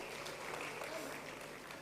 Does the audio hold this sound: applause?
yes